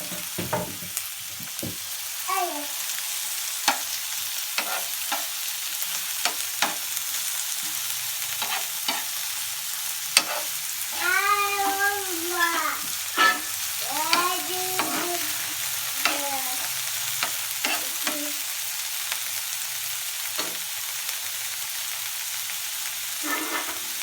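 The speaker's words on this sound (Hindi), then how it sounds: "सब्ज़ मिर्च और एक छोटा सा हमने टमाटर काटा है वो हम डाल देंगे और इसको अच्छे तरीके से हम भून लेंगे" Onion, green chili and tomato frying in a pan for egg curry, a steady close sizzle with repeated scrapes and stirring strokes throughout and no talking.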